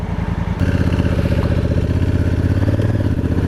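A Honda CRF1000 Africa Twin DCT adventure motorcycle is being ridden, its engine a loud, close, pulsing drone that rises in pitch slightly as it moves along.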